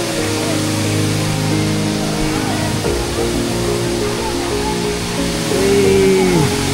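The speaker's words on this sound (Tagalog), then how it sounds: "ito na yung falls" Batlag Falls in Tanay, Rizal pours in a loud, steady, broadband rush that fills the whole clip close by, with a brief murmur of voices near the end.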